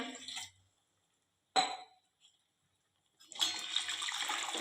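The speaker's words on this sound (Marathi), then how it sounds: "वरून गरजेनुसार पाणी घालूया" Water pours in short bursts with gaps between, ending in a longer steady splashing stream filling a pot of dahi kadhi close by.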